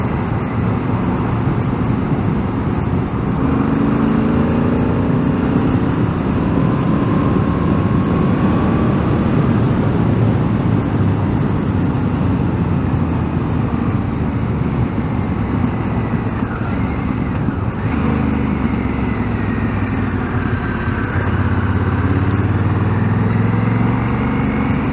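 A Honda Africa Twin motorcycle rides on a road, its engine droning steadily and loud throughout with continuous wind and road rumble, the engine note shifting as it gains speed.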